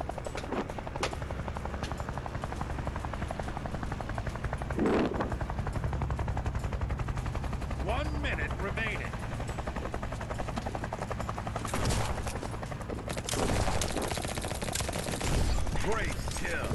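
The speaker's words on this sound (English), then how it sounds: "Supply helicopter inbound." A helicopter drones steadily throughout a VR shooter game in an arcade arena, with rapid bursts of submachine-gun fire crackling on top and brief game announcer voice lines.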